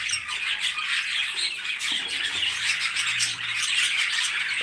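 Budgerigars squawk and chirp in quick, scratchy bursts, a busy flock of bright calls fairly close, with a low hum beneath.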